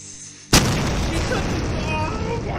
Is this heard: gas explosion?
yes